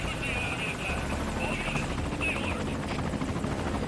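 Helicopter in the Metal Gear Solid V: Ground Zeroes video game, a steady rotor thrum with a buzzing whine running through the whole stretch, heard fairly quietly behind a talking voice.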